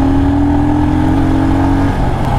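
A 2021 Royal Enfield Himalayan motorcycle accelerates on a test ride at the Motor Bike Expo. Its single steady engine drone stays loud and close throughout, with no voices over it.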